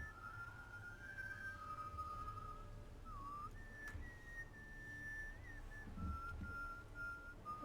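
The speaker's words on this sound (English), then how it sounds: "Is he taunting us by whistling?" A man whistles a wavering melodic tune in The Witcher 3: Hearts of Stone, long sustained notes gliding up and down over a low ambient rumble, moderately loud and steady for several seconds.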